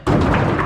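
Thrown shurikens striking a target during a ninja experience in Kyoto, heard as a close, solid thud with a short dull ringing tail.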